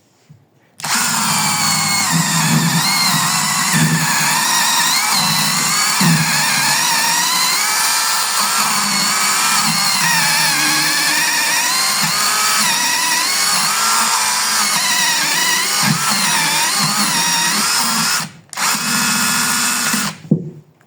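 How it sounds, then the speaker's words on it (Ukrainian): A Dnipro-M DMS-201BC chainsaw with a dull chain screams continuously as it cuts through wood, loud and close, then cuts out briefly near the end before revving again. "ріже вона добре, але зараз трохи ланцюг е, затуплений"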